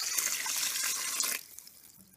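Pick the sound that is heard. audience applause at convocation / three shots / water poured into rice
water poured into rice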